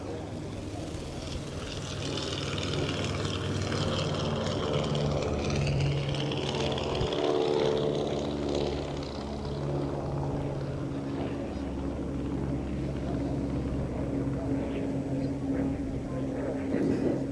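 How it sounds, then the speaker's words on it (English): A steady propeller-engine drone from a twin-engine Cessna T-50 Bamboo Bomber holds throughout, rising and shifting slightly in pitch, with a voice speaking over it partway through. "Tom Huff and his Cessna T-50, the Bamboo Bomber."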